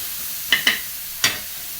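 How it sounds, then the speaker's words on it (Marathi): Onions frying in oil in a pan for egg bhurji, a soft continuous sizzle broken by three quick scraping stirs, two close together and one a moment later. "परत एकदा त्याला हलवून घेऊ थोडं."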